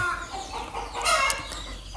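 Chickens and young chicks clucking and cheeping together on a small farm, a busy, steady chorus of close clucks with a few brighter peeps, no one talking.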